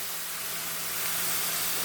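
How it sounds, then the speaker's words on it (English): Ghee sizzling in a hot pan while cooking mocha (banana flower) curry, a steady bright hiss lasting a couple of seconds with no talk. "Now friends, adding some ghee."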